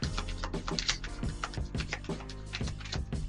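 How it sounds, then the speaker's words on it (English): Tarot cards being shuffled by hand, a dense run of quick papery riffles and soft flutters in close, steady bursts with no talk. "One more shuffle."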